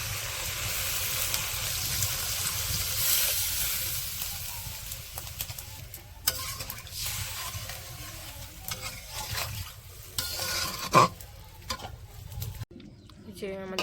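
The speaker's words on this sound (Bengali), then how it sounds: "এখন হচ্ছে ঝোল দিয়ে দিব মাংসতে।" Broth poured into a meat curry cooking in a pan in a village kitchen, a steady frying hiss and stirring scrapes, with outdoor birds and background noise around it and clattering toward the end.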